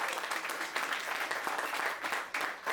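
Crowd applause at a mobile food pantry event on an air force base, dense sustained clapping from many people throughout, fairly close and loud.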